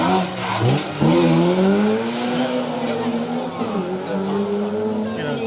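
A Mini rally car on an asphalt stage revs hard close by, its engine note climbing and dropping through gear changes in a continuous loud run.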